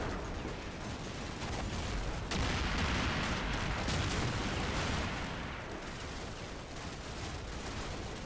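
Gunfire from Combat Mission: Blood on the Snow, a dense crackling battle of rifle and machine-gun bursts with heavier booms, swelling louder midway then easing back.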